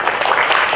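Audience applause at a Toastmasters District 67 Mandarin training session, dense clapping throughout the short moment with a voice faintly over it.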